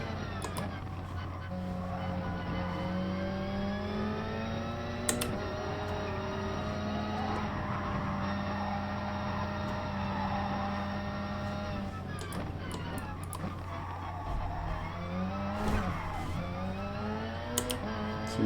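A race car in GT Sport, its engine holding a steady drone with rising and falling pitch through corners and a short tire squeal, under continuous talk.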